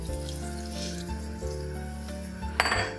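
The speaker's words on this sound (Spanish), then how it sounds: "le incorporo el agua donde he disuelto la pastilla de ajo y perejil" Water with a dissolved garlic and parsley stock cube added to a pan of rice with pork and lamb, a steady close sizzle with a sudden louder splash and hiss near the end.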